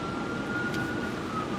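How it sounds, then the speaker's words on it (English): A steady emergency-vehicle siren wails on a Las Vegas street, heard over a constant low rumble of traffic or car interior noise, moderately loud and without speech. "Vegas sirens."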